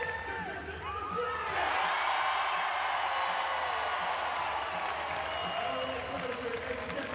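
A large audience at a Paralympic Games wheelchair basketball event, Australia versus the USA in London in 2012, applauding and cheering in a loud, sustained wash of clapping with scattered whoops and an announcer's voice over it.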